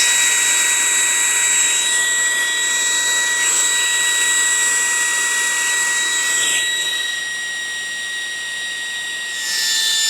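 A Pad-Pal breast pump runs at full speed with a loud, steady high-pitched motor whine that holds its tone, then shifts slightly lower partway through.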